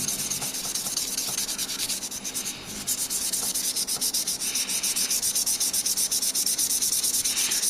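Fine 1000-grit sandpaper is rubbed lightly over the frets of a Warmoth guitar neck during fret leveling and crowning, giving a steady close scratching with rapid rhythmic back-and-forth strokes and one short pause, with no speech.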